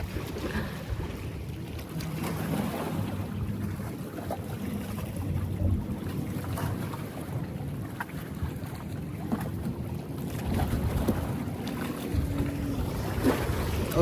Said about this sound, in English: Ocean breeze.